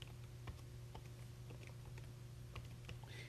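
Typing on a computer keyboard while searching for an article by an author's name: quick, faint, irregular key taps over a low steady hum, with no talking.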